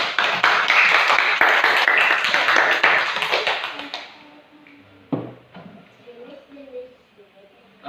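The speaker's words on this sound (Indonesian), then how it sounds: "tepuk tangan dulu sama kita dulu nak" A classroom of pupils claps hands together in a loud burst of quick, mixed claps that lasts a few seconds before fading, with a teacher's voice and some murmuring after it.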